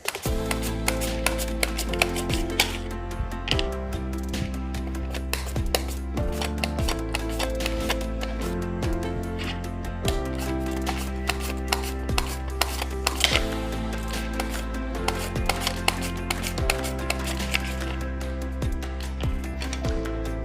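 Potatoes for zuppa are sliced with a hand guard in quick, rhythmic strokes, a close, crisp run of cuts over steady background music.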